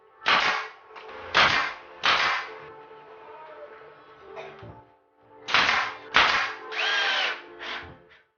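Loud pneumatic nail gun bangs and short power-driver whirs come in separated bursts while plywood pieces are glued, nailed and screwed together into a jig, close and without talk.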